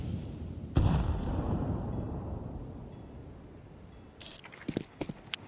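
A grenade blast in a Counter-Strike match at ESL Pro League booms loud and near, then a low rumbling tail fades out, followed by a few sharp clicks and pops near the end.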